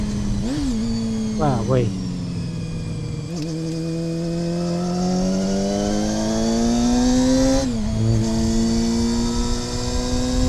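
Honda CBR250RR MC22 motorcycle engine revving hard as it pulls away and climbs through the revs, a loud, steady high-pitched wail with brief dips at gear changes, under short exclamations from the rider.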